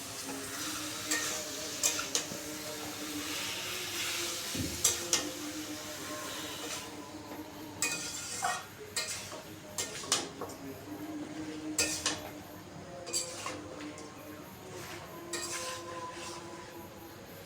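Chicken pieces for a dum biryani fry with spice paste in a pot, giving a low steady sizzle broken by scattered clinks and scrapes of a spoon against metal, with no voices.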